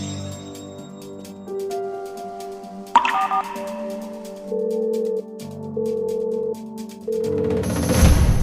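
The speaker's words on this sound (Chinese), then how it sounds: "你们还是先给业主打个电话吧。" A telephone rings in steady repeating tone bursts after a short stretch of quiet music, with a sharp click before the ringing starts; the rings stay moderately loud and evenly spaced.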